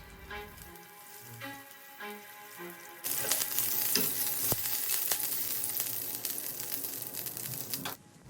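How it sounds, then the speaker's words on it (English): Curry leaves hit hot oil in a pan after a few quiet kitchen knocks, bursting into a loud, dense crackling sizzle that holds for about five seconds and then cuts off. "To avoid the oil from splattering, I have washed and dried these curry leaves before adding them to the pan"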